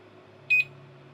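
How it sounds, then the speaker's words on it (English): A device gives two quick, close electronic beeps, near and clear, over a low steady room hum. "don't know why it's beeping"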